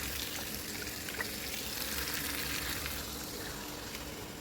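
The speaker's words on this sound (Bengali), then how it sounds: "এটা এবার আমি আমের মধ্যে ঢেলে দেবো।" Jaggery water poured into boiled mangoes in a pan for mango pickle, giving a steady hissing, bubbling wash of liquid heard fairly faintly and without any voices.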